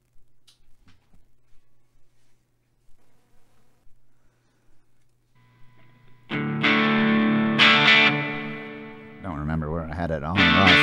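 Electric guitar played through a breadboard build of the TGP Barbershop Clipper Drive pedal: quiet taps and faint hum at first, then loud, buzzy overdriven chords ring out near the end.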